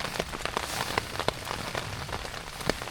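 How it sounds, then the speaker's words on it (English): Steady rain patters on a shelter overhead, a dense close hiss with scattered louder drips striking the covering, heard with no talking. "It's quite nice actually, sat under here listening to the rain."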